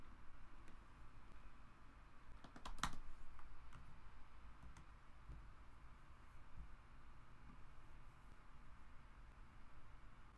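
A computer keyboard being typed on to enter a terminal command, heard as faint, sparse key clicks over quiet room hiss, with a brief sharper burst of keystrokes near the start.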